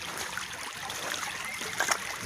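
Creek water flows steadily beside a gold prospecting site, a continuous close, even rush and trickle with no voices.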